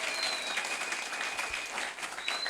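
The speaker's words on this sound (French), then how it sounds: "Acclamez très très fort" Audience at a Bible conference applauding steadily, a dense even wash of clapping sustained throughout at moderate level, with no cheering voices standing out.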